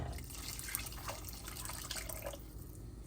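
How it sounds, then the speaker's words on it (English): Water is poured into a pot of soup heating on high, a continuous close splashing and trickling stream with a few drip-like spatters throughout. "I'm gonna put more water in here."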